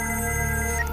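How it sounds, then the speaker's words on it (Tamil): A telephone rings with a short, bright electronic ring tone, close and clear, heard alone for about a second. "காவியா வீட்டில் இருந்து ஃபோன் வருதா?"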